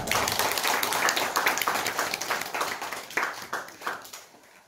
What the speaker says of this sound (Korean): 우리 자리에 들어가시길 다시 한번 우리 박수하겠습니다